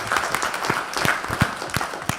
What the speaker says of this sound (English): I would like to give the first panel a round of applause